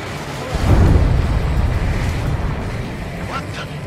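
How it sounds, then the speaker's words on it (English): A deep, rumbling underwater explosion in the flight combat game Ace Combat 7 swells and slowly fades, loud and close, with a brief tonal radio-like blip near the end. "A huge explosion just went off underwater."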